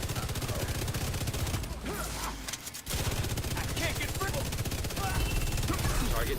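Rapid gunfire from a shooter video game, dense bursts of automatic fire rattling almost continuously with a brief lull midway, loud and close, with voices shouting over the shooting.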